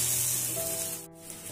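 A millet dosa roasts on a hot pan with a close, steady sizzling hiss that thins out briefly near the end before resuming softly.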